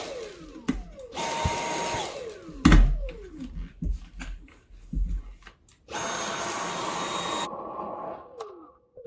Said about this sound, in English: Let's see if the motor at least does something